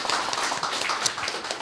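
Audience at a Korean community New Year gathering clapping, a quick, dense patter of hand claps at moderate loudness with no voices over it.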